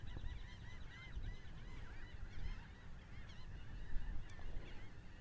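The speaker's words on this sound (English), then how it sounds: "I can hear the birds going crazy in the distance over on the little island there." Geese honk and call in a busy chorus far off over small islands in Little Bay near Rockport Beach, Texas, the overlapping cries steady across a low wash of wind and surf.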